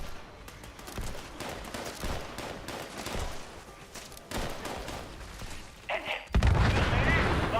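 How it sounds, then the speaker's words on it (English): Gunfire in the video game Fallout 76, a run of sharp shots and bursts at irregular intervals, fairly loud and close, ending in a denser, heavier volley. "I have lots of ammo, so I'm just gonna shoot this guy."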